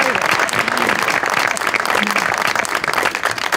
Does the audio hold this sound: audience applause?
yes